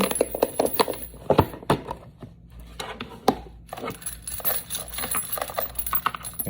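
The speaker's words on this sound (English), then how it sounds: "This is just a pencil box with a napkin in it. Gonna shake that around." Brass cartridge cases shaken with lubed rice inside a pencil box rattle and clink in rapid uneven bursts, close and fairly loud, with a brief pause midway and no talking.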